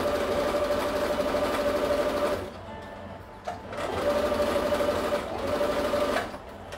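A sewing machine runs a seam through stretchy fabric for a cat-themed Russian-style doll, its motor whirring in two steady bursts separated by a short pause.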